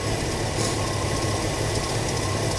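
A 1984 Ford F150 short-wheelbase 4x4 truck engine idling after carburetor trouble, a steady, loud low rumble with an even pulsing throb and no talking.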